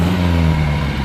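A 1958 MGA Roadster idles close by through its small polished stainless exhaust with muffler, a steady low, smooth engine hum that stays even and loud for about a second with no talk.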